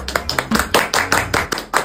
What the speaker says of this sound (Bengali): তো টপ খানকি দিদির জন্য একটা জোরে একটা হাততালি।